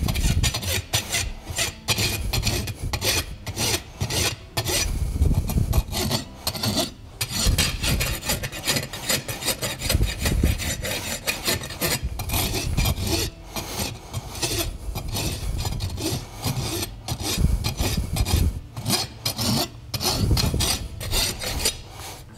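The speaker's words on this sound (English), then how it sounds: "Then using the smoother side of the file," Farrier's rasp filing the hoof wall of a horse's hind foot with its smoother side, a steady run of coarse rasping strokes close by, repeated rhythmically for the whole stretch with brief pauses between passes.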